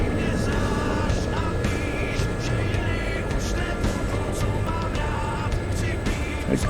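An L-39 jet in a flight simulator airshow gives a steady, loud engine roar that holds for the whole stretch, with a faint voice murmuring underneath.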